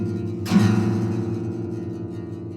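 A single strum on a roadside-found guitar strung chromatically rings out, a sharp attack followed by a dense, sustained cluster of tones fading slowly, fairly quiet and close.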